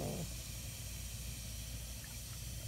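Muriatic acid fizzes on seashells with a steady, dense hiss that runs unbroken and fairly loud from start to finish, with no talking.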